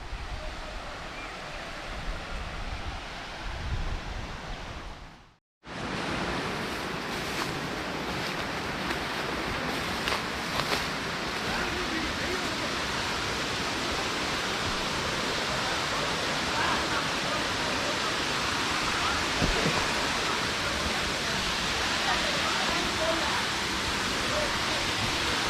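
Waterfall at Black Rock Waterfalls in Kanyakumari, a loud, steady broadband roar of falling water that starts abruptly after a brief cut and then continues evenly throughout, with no voices.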